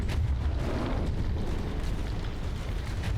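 A battleship cannon fires in the naval combat game From the Depths, giving a heavy, rumbling boom that spreads into a sustained low roar lasting the full stretch.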